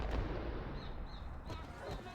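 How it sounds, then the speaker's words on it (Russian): Gunfire in the video game Max Payne, a sharp shot at the start followed by a few fainter reports and echoing rumble, no talk over it. "Но он успел выстрелить, типа."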